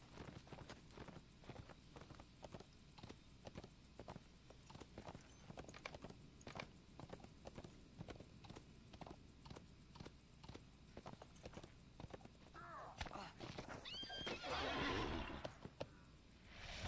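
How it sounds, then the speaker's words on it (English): Rohan horse from The Lord of the Rings Online video game: steady hoof clops throughout, then a high, rising whinny near the end, close and clear over faint background hiss. "Stupid Rohan horse."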